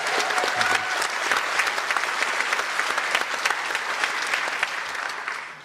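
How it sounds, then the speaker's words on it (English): An audience at a community talk on electrification in Greater Bendigo breaks into full applause for a technical support worker, a dense, even wash of many clapping hands that holds steady before fading slightly at the end. "Can you please give him a huge round of applause?"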